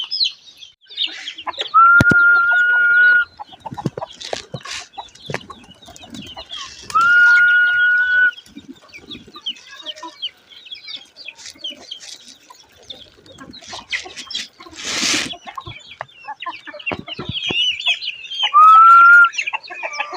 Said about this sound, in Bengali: কবুতরকে খাবার দেওয়ার জন্য ডেকেছি হাঁস এর বাচ্চাগুলো মুরগি সবগুলো এসে খেয়ে ফেলতেছে